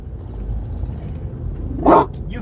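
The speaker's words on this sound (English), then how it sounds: "Well, now you're just barking to be barking." A single short dog bark rings out inside a moving car on a roadside drive, loud and close over a steady low engine and road rumble.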